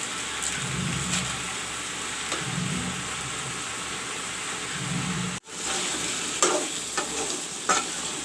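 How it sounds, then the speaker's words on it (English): Brinjal and potato fry with masala in a pan, a steady loud sizzle with scraping stirs and brief clatters of the spoon, no talking. "the brinjal and potato is fried up along with the masala"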